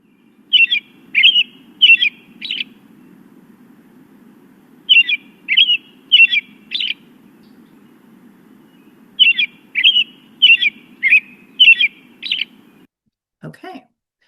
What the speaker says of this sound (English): I'm going to play the bird sound